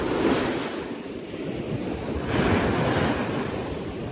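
Big ocean waves roar and wash continuously at a seaside fishing spot, a loud, steady surge with wind buffeting the microphone.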